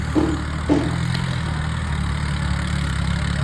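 An old Swaraj 735 tractor engine works hard with a steady, low throbbing hum, preceded by two brief knocks near the start; no voices.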